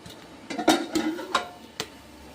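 Popcorn being stirred in a pot on a gas stove, giving a few irregular scraping clatters and popping knocks close by, with no talk.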